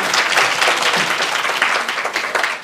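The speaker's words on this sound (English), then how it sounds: "can we clap for her, please?" Workshop participants at a science writing session clap for a woman in a yellow shirt, a close, lively burst of many hands that continues evenly throughout.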